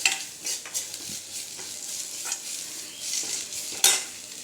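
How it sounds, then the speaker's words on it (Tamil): Tulsi and karpuravalli leaves are sautéed in a pan with close sizzling and repeated stirring scrapes. There are a few metallic clinks of a utensil against the pan, and no talk. "துளசி, கற்பூரவள்ளி இலை எல்லாத்தையும் போட்டு நல்லா வணக்கிக்கலாம்."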